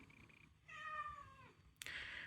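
A house cat meows twice indoors, a short call followed by a longer, drawn-out harmonic meow, then a brief broadband rustle or clatter at the end.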